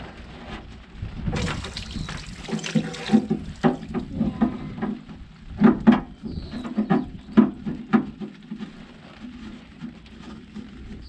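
Diesel fuel trickles and splashes out while a fuel filter is changed on a Ford 250, an irregular dribbling patter with sporadic drips and clunks, close up and moderately loud.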